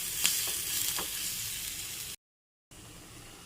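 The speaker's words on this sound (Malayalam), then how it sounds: "ഉള്ളി മാത്രമായിട്ട് മൂപ്പിച്ചിടുകയാണ്" Sliced onion frying alone in hot oil in a pan for a bitter-gourd curry, giving a steady broadband sizzle with a few sharper pops, broken by a short cut to silence before the sizzle resumes.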